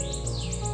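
Wild birds in an Appalachian forest give quick, repeated high chirps in a brief, fairly loud burst, with no voices.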